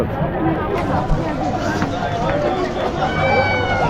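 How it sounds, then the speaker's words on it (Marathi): A dense crowd at the Maha Kumbh Mela, a steady hubbub of many voices and footsteps filling the space at close range, with no single voice standing out. "गर्दी झाली गर्दी झाली ये पाठीमागे पण गर्दी बघा मित्रांनो फुल पॅक आहे"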